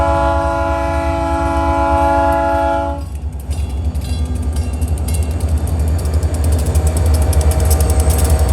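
A loud train horn sounds with a sustained chord, then stops as the train rumbles past nearby on a grade in Winchester, wheels clattering and rattling rhythmically along the rails.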